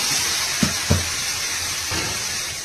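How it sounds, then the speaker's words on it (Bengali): Pieces of jackfruit drop into sizzling spiced masala in a pan, for a home-cooked Indian jackfruit and prawn curry. A steady frying hiss carries throughout, broken by two soft thumps close together early on and a third later. "এবার ইঁচড় দিয়ে দেবো।"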